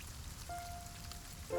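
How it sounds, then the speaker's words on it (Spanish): Raindrops fall into a puddle with a soft, faint patter, and a light tone rises briefly near the end. "Las gotas de lluvia en el charco."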